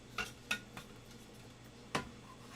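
Plastic ice cream paddle set into an ice cream maker bowl in a kitchen, a few sharp clacks and taps spaced apart, close and fairly quiet.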